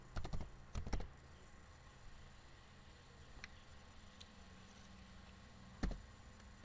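Computer keyboard keys pressed while working in MATLAB, quiet sparse clicks in short clusters with long pauses between them in a hushed room.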